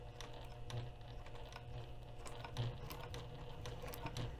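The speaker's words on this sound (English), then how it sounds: "So I'll be sewing a few stitches on top of the acrylic" A sewing machine topstitching over a thick folded fabric seam on an acrylic guide plate for bagmaking, giving a faint, steady, rapid mechanical chatter of stitches with a low hum, continuous throughout.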